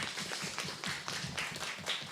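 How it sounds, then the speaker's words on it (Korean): An audience at a startup pitching competition applauds, a brief spell of steady, close clapping from a small crowd with no voices over it. "박수 부탁드리겠습니다"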